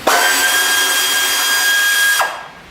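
A pneumatic air tool runs in one steady high whine for about two seconds on a backhoe repair job, then spins down and stops, loud and close with no talk.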